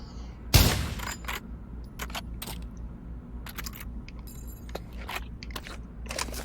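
Sharp gunshots in the VR shooter Pavlov: one loud crack near the start, then a scattered string of lighter clicks and pops at an uneven pace over a low steady hum.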